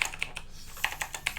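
Quick, light keystrokes tap on a computer keyboard, about eight soft clicks in an uneven rhythm, close and quiet with no talk.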